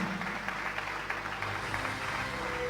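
A church congregation applauds steadily during a Spanish-language worship service, a dense, even wash of clapping that carries through the whole stretch without any talk.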